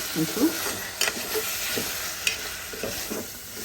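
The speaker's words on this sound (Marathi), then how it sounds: "थोडा परत परतून घेते" Biryani masala for chicken biryani is stir-fried in a pan, with steady sizzling and scraping of the spoon against the pan. A few louder stirring clicks and scrapes stand out close by.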